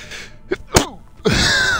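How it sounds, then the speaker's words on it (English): One sharp, loud human sneeze, close to the microphone, bursting out after a short quick inhale and followed by noisy background chatter or game sound. "And I also sneezed on my door handle"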